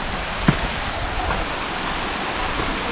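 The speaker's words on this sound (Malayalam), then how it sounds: "ഇവിടെ നല്ലൊരു വെള്ളച്ചാട്ടം നമുക്ക് താഴെ കാണാം." A waterfall on the Agasthyarkoodam trek in the forest gives a constant broadband roar of falling water, with one brief faint knock near the start and no talk.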